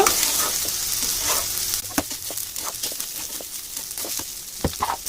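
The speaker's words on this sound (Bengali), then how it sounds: "বাড়িতে যেটা খাই আমরা সাধারণ ভাত সেই চাল দিয়েই বানাচ্ছি তো ভালো করে কষিয়ে নেব বেশ ভাজা ভাজা মতো করে নেব" Thin everyday rice grains are stir-fried in a hot pan, giving a close steady sizzle with repeated scraping and tapping strokes of the spoon.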